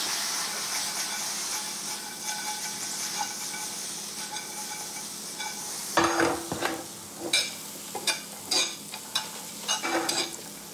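A hot granola mixture coated in syrup hisses steadily in a pan, then gives way to a run of sharp, irregular scraping and stirring knocks with sizzling between them.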